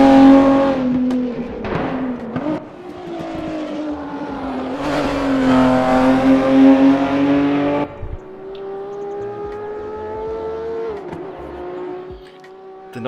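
A race car engine in the RaceRoom sim racing game revs hard and loud, climbing through gears and then dropping sharply on downshifts, close and alone with no voices.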